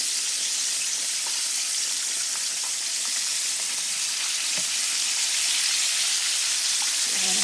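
Flounder pieces fry in hot oil with a continuous dense sizzle, up close and steady, with faint scrapes and taps as a piece is turned over.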